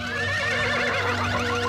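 A cartoon robot horse neighs, a loud whinnying cry with warbling, wavering pitch over a steady low mechanical hum, sustained and close.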